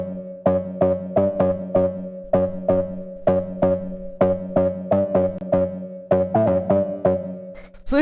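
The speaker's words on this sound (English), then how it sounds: "after that we have the stab, which sounds like this" A tech house synth stab built from saw and sine waves hits in short, bright, plucky chords in a syncopated repeating pattern, dry and upfront, alone with no voice.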